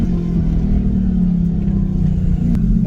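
Twin-turbo Chevrolet Corvette E-Ray launching in a no-prep drag race in Texas, a loud steady engine drone holding throughout with a brief sharp crack near the end.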